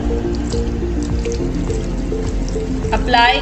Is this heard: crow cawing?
no